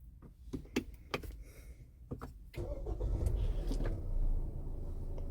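Mahindra XUV700 SUV engine starting: a few short clicks and knocks from the cabin, then at about two and a half seconds a low engine note catches and settles into a steady idle.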